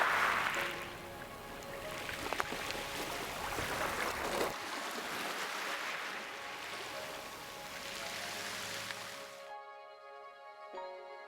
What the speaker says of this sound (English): The sound of the waves crashing against the shore or pulling back over the rocks soothes my soul.